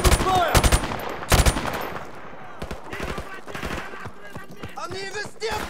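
Gunfire in a Call of Duty game: loud bursts of automatic fire and sharp single shots in quick clusters early on, then scattered lighter shots and impacts, with voices shouting among them.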